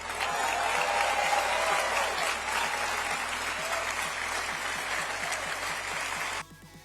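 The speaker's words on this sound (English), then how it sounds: "The crowd erupted in thunderous applause" Crowd at a Trump rally bursts into loud, sustained applause with cheering, a dense wash of clapping that holds steady for several seconds before cutting off abruptly.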